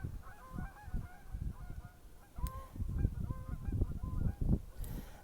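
Geese honk repeatedly in an overlapping flock chorus near a lake in February, steady rhythmic calls at moderate distance with a brief sharper cry midway.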